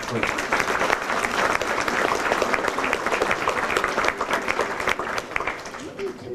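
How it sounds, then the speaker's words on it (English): Audience round of applause at the official opening of a local transport centre, loud and sustained clapping from a sizeable crowd for over six seconds with voices mixed in. "A round of applause."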